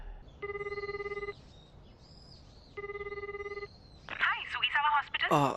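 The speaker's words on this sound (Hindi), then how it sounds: "आपके लिए फोन है" An animated phone rings in two bursts of rapid electronic trills with a pause between, then a voice starts speaking right after the second ring.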